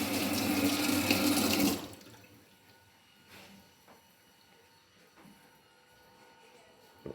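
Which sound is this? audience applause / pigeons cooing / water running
water running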